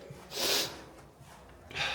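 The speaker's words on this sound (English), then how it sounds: "I'm already sniffing. I hope I'm not getting sick." Two quick nasal sniffs close to the microphone, the first stronger, the second near the end, with no talking.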